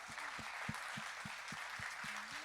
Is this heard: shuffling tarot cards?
no